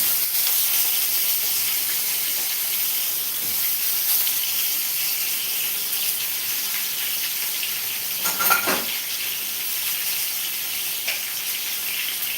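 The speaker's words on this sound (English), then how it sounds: "To this, I'm going to be adding our vegetables here. Here go the vegetables." Vegetables sizzle loudly as they hit hot oil with fenugreek seeds in a pan for an okra curry, a steady frying hiss with a brief louder burst of spattering partway through and no talk over it.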